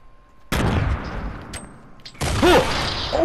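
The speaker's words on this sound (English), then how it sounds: "That was a good nade." A grenade blast in the video game Fortnite: a sudden loud boom with a long noisy decay, then a second burst of explosive noise and gunfire-like crackle, with no talking.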